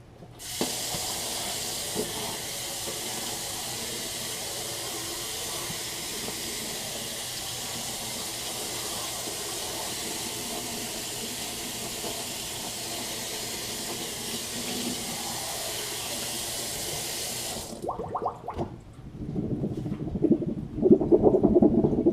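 A Cricut fabric mat rinsed under a running tap: a steady broad rush of water for most of the stretch, then it stops and gives way to brief splashing and handling noises near the end.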